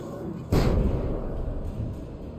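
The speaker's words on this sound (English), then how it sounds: "Flashbang inbound." Flashbang grenade going off in Alan Wake Remastered, one sudden loud burst followed by a ringing, decaying wash of noise.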